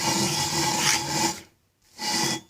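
A Johnson 15 HP outboard cylinder head is rubbed over 120-grit sandpaper in two loud, close, gritty sanding strokes split by a short pause.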